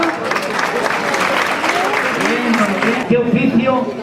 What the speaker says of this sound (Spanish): un fuerte aplauso para Aurora.